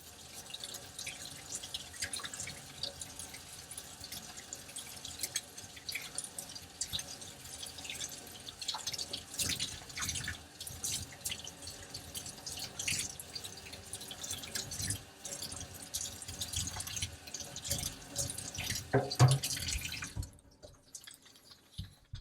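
A paint brush caked with water-based paint is rinsed under a running tap, the steady broadband splash of water hitting the bristles and sink continuing for about twenty seconds before the flow is shut off.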